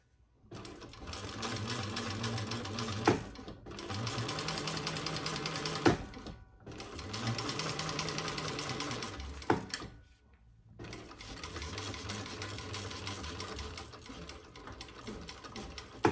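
A sewing machine top stitching a bucket bag runs in four steady stretches of rapid, even stitching with brief pauses and soft clicks between them, close and fairly quiet.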